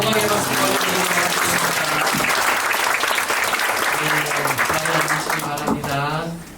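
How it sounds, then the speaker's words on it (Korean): A congregation at a church dedication thanksgiving service breaks into loud, sustained applause that continues evenly for several seconds, with voices speaking over it. "우리 하나님께 영광의 박수 드리겠습니다."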